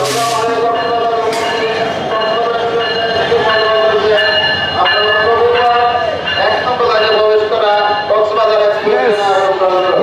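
A train rolls along the Dhaka to Cox's Bazar route into platform line one of a station, a loud continuous rumble of wheels and cars with tonal squeals, while voices carry on over it throughout.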